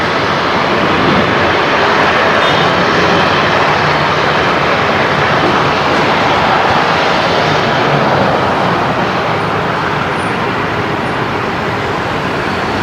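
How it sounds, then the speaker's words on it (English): A Dash 8 turboprop departs at night, its loud, sustained engine drone holding steady for the whole stretch before easing slightly toward the end, with no talking. "We don't see many Dash 8 departures off the Legacy at this time of night."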